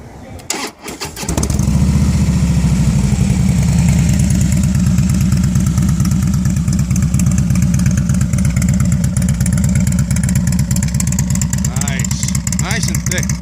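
A Harley-Davidson Softail Slim S with a Rinehart 2-into-1 exhaust cranks and fires up, then settles into a loud, close, deep rumbling idle with a steady throb that lasts throughout.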